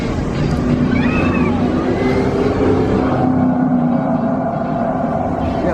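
Ride cars passing by at Radiator Springs in Disney California Adventure, a loud steady engine and tire rush close by under crowd noise.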